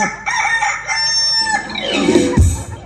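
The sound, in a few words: person imitating a rooster crowing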